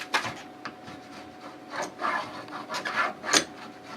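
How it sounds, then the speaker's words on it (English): A scraper takes glide wax off the edges of a cross-country ski in a series of short, rasping strokes with an uneven rhythm. The scraping is fairly quiet and close, with no voices. "So we're going to scrape off the edges."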